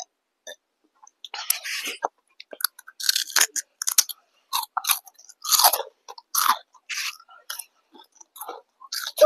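A small child chewing a breakfast of roti, fried egg and potato fry, with close, wet, crunchy bites and mouth noises coming in irregular bursts, and no speech.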